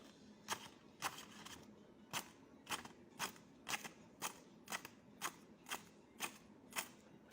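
Scissors making deep cuts into hair during a haircut, a series of about twelve crisp, evenly spaced snips, close and quiet, with no talking.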